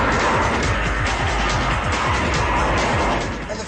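A loud, roaring Porsche GT3 engine at high revs, steady and close, with some tire noise, filling the whole stretch without any talking.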